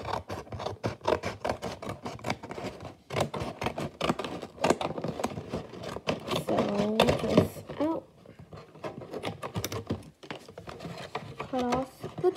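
Scissors cut through the top of a cardboard box while a fidget box vending machine is being made, giving repeated close rasping snips and scraping with short pauses between them.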